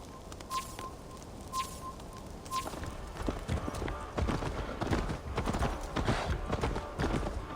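Horse hooves gallop in Assassin's Creed Valhalla, a fast run of clip-clopping beats that grows louder and denser over the outdoor game ambience, with a brief tone early on.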